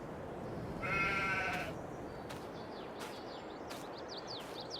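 Sheep bleat in a farming video game, one clear bleat standing out over steady ambient background noise, with faint bird chirps afterward.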